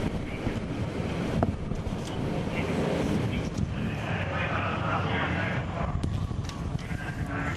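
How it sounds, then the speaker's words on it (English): Strong wind at Silverstone circuit on Pre-'83 and Pre-'93 Championship race day buffets the microphone in constant loud gusts, a dense roar across the whole stretch. "Still very, very windy."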